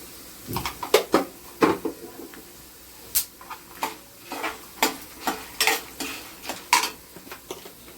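Urad dal and mustard seeds fry in oil in a pan, with a low sizzle under a string of sharp, close clicks and pops that come irregularly throughout.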